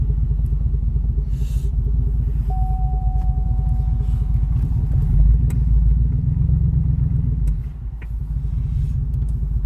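A Cadillac Escalade engine idles and rolls forward nearby with its muffler disconnected, a loud, rough, low rumble and clatter from the open exhaust that swells slightly partway through.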